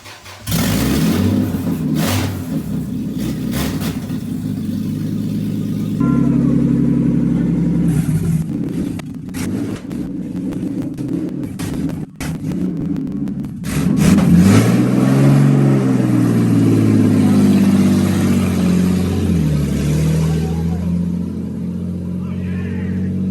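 A Toyota FJ55 Land Cruiser, freshly rebuilt, starts up and is driven on its first test run, engine running loud and close with revs rising and falling; a few abrupt cuts break the sound.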